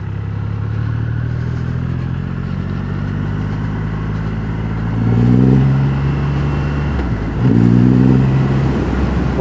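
Motorcycle engine running through its original stock exhaust, a steady low rumble near and loud, with two brief revs that swell in volume and then settle back to idle.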